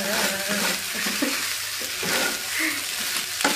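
Nasi goreng fried rice is stirred in a hot pan, with constant loud sizzling and frying and scraping stirs close by, and no voices.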